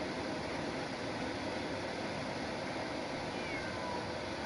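A cat in Genshin Impact meows over a dense, constant wash of background noise, the calls fairly loud and sustained across the few seconds with no one speaking.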